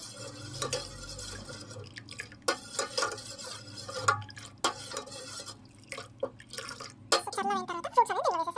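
Custard powder in milk being stirred in a pot: soft, irregular clinks and scrapes of a spoon with liquid sloshing, low and close, under a speaking voice.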